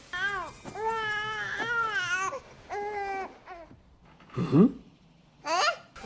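A baby in the animated film Tarzan babbles and whimpers in short rising cries, alone and fairly close, with brief pauses between bursts.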